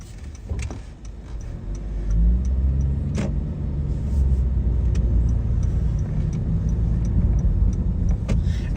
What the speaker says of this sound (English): And this is when the traffic isn't really that bad, right?